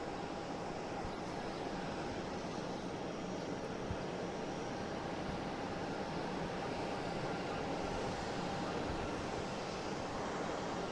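Steady, even jet roar of a United Airlines Boeing 737 MAX 9 bound for LAX at Boston Logan airport, heard from some distance as a constant wash of engine noise with no talking.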